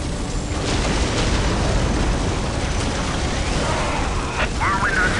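Whirlwind artillery tank shells from Warhammer 40k Dawn of War pound in a continuous rumble of explosions and battle noise, loud and dense throughout, with unit voice lines over it.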